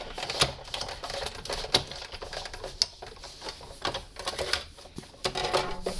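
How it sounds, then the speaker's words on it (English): A die-cutting machine rolls a pair of cutting plates with stamped cardstock through its rollers, giving a close, steady run of clattering, clicking mechanical noise for about six seconds, with no talking. "put the second cutting plate on top and roll it through"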